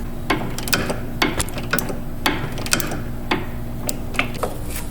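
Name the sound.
needle nose vice grip turning a sway bar link nut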